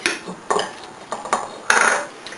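A utensil stirs an empanada filling of chopped hard-boiled eggs and cilantro in a bowl, giving close scraping and clinking strokes in an uneven rhythm with no voices.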